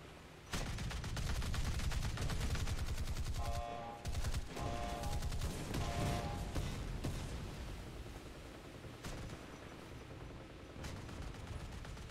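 Naval guns fire in loud, dense barrages toward an island during a World of Warships battle, booming salvos rolling almost continuously, a brief lull near the middle, then sustained heavy fire fading slightly toward the end.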